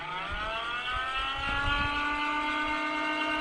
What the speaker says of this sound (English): that sound means the engine is running, and there's a sensor motor here